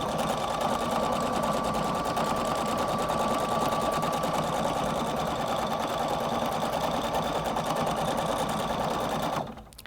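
A Husqvarna Viking Designer Brilliance 80 sewing machine stitches appliqué fabric at a steady, fast, continuous hum and rapid needle chatter, running alone for nearly ten seconds before stopping abruptly.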